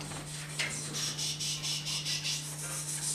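A voice imitates cicadas with a steady, pulsing raspy buzz that repeats in rapid waves for a few seconds. It sounds close, fairly loud and continuous, with no other talk.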